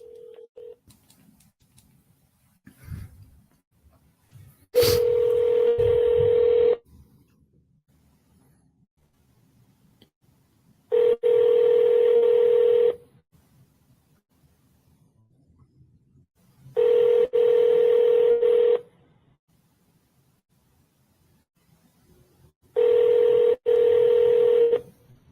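A telephone placed on speaker for a cold sales call, starting with a quick burst of dialing tones and then a steady ring tone that repeats four times with long quiet gaps between.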